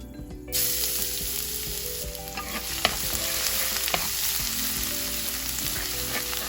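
Minced garlic fries in olive oil with a steady, close sizzle and occasional stirring clinks and scrapes against the pan. The sound starts abruptly and carries on without talk.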